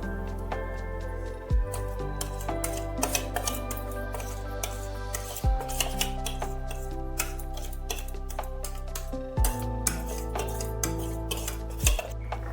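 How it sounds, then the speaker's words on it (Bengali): A metal pan clinks into a steamer pot, followed by clattering metal-on-metal contacts and soft pouring of dhokla batter, several sharp knocks repeating over a steady low hum in a kitchen. "তেল দেওয়া যে পাত্রটা, সেই পাত্রটা আমি এর মধ্যে দিয়ে দিলাম, দিয়ে এবার সাথে সাথে আমি মিশ্রণটা ঢেলে দিচ্ছি এর মধ্যে"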